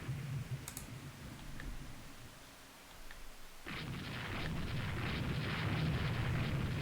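Naval guns firing in the warship game Rule the Waves 2: a few faint clicks early on, then a sudden, sustained low rumbling roar of gunfire that holds steady and grows slightly louder to the end.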